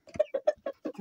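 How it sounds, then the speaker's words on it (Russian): A farmyard rooster gives a run of short clucking calls, about six quick rhythmic pulses close to the microphone with no talk over them. "тот кукарекает"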